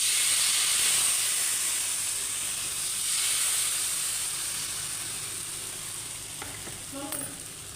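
A dosa sizzles and hisses on an oiled dosa pan, a steady close frying sound that slowly fades a little, with a faint clink near the end and no speech.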